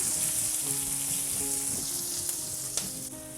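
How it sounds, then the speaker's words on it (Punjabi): Sliced onions fry in oil, sizzling steadily and close with a few soft stirring scrapes and light knocks, and no one speaks. "ਇਹਨਾਂ ਨੂੰ ਤੇਲ ਵਿੱਚ ਨਾ ਆਪਾਂ ਥੋੜਾ ਜਿਹਾ ਭੁੰਨਣਾ ਹੈ"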